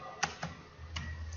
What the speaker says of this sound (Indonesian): kemudian kita ketikkan jabatan.